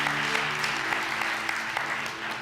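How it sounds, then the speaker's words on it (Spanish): A church congregation applauds together after a service moment, a dense, steady wash of clapping that holds evenly throughout with a low hum underneath. "Demos un aplauso a los que hoy día han dado este paso"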